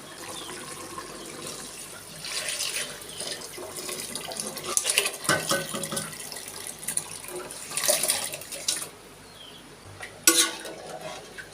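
Water poured into a pot of mutton curry in a home kitchen, a running splash that rises and falls in loud bursts, with no talking.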